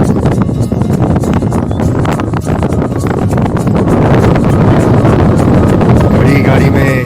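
Strong wind blowing outdoors on a high mountain route in Ladakh, a steady loud roar buffeting the microphone throughout, with a voice heard faintly beneath the gusts.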